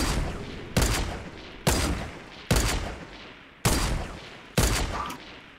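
Semi-automatic gunfire in a video game, five sharp loud single shots at irregular intervals of about a second, each leaving a long decaying tail.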